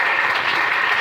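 A church congregation breaks into steady, sustained applause during a deliverance service, a dense crowd clapping evenly at close range.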